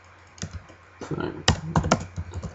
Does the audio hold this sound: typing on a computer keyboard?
yes